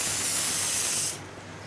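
An egg sizzles loudly in very hot oil in a wok with onion and salt, a bright continuous spitting hiss that drops off abruptly after about a second, leaving softer frying underneath.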